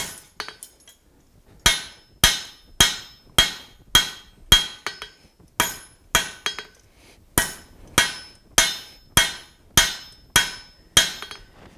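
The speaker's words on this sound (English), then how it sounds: "for all the hammering, I'm making sure that everything is nice and in line" Repeated sharp hammer strikes on metal while making a rivet header ring out in a steady rhythm, roughly every half second, with brief pauses between bursts and no talking.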